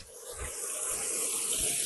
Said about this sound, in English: Oh, a water fountain.